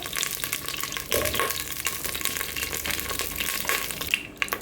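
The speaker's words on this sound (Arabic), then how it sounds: "اول شي بنقلي البصل" Onions fry in a pot with a dense, steady hiss, and occasional stirring clatters rise above it.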